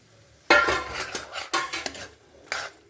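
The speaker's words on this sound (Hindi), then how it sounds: "लो टमाटर डालो, टमाटर डाल के अब भूनो इसको, टमाटर गल जाए।" Tomatoes being stirred and sautéed in a cooking pot, with a burst of metal utensil scraping and clinking against the pot at half a second, then several more rounds of clattering stirring, loud and close.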